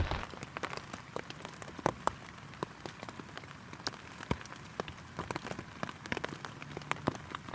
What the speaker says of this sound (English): It's still raining now.